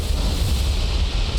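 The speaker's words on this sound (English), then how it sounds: "Tons of explosions again." Heavy bomb explosions rumble continuously in a War on the Sea naval battle game as bombs strike near an enemy battleship, producing a dense, loud, sustained low boom without any voices.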